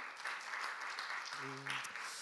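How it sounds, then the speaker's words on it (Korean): Faint, distant applause from an audience at a university program results-sharing festival in Korea, steady clapping for a couple of seconds with a brief voice rising in the middle. "박수 한번 부탁드릴게요"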